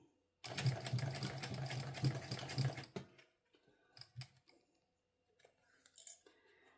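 Sewing machine stitches a Pebble Sling Bag in one loud, steady burst lasting a few seconds, then stops, leaving scattered small clicks and handling noises close by.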